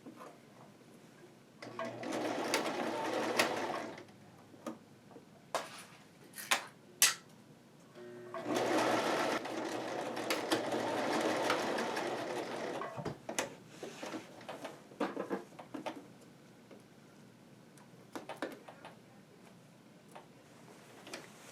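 A sewing machine stitches a curved seam in a haori lining for traditional Japanese attire, running in several steady bursts with brief pauses and small clicks between them, close and moderately loud with no talking.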